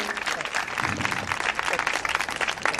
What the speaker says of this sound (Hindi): जोरदार तालियों के साथ स्वागत बच्चों